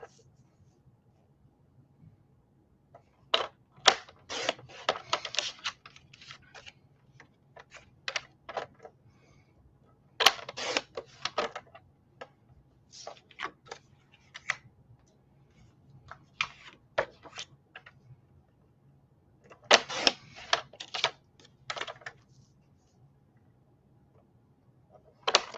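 Paper pieces for a Doodlebug Bee Happy 6x8 scrapbook binder being trimmed apart, heard as clustered bursts of short crisp cutting clicks and snips with quiet pauses between, close and fairly soft with no talk.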